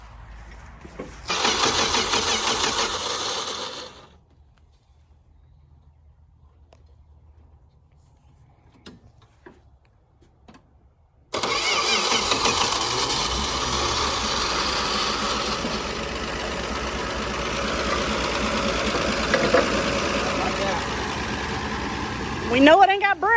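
An old Dodge Dart that has sat unused since 1992 cranks loudly for a few seconds, then goes quiet. After a long pause it fires and keeps running with a rough, steady engine drone until the end.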